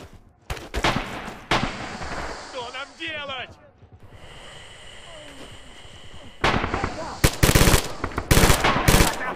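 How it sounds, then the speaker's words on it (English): Rifle and machine-gun fire in the Return to Cold Steel war game, with bursts of shots early and a dense cluster of loud cracks near the end, while players talk over the fighting. "They're shooting at us from the right flank."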